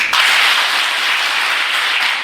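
Audience at a personality development session in Hyderabad clapping hands on cue, a loud, dense, steady wash of applause from many people filling the room, with no voices over it.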